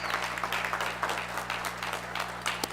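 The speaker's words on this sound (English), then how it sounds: "Give yourselves a hand of applause." Attendees at a community planning charrette in Park Heights clap together, a moderate, steady wash of applause from the room under a constant background hum, with one sharper knock near the end.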